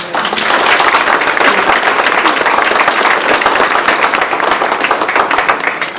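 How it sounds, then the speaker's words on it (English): Audience applause at the Botham Jean Foundation Red Tie Gala 2019, loud, sustained clapping from a large room filling all six seconds. "ving Bertram, Alisa, Miss Allison, and Brant a round of applause."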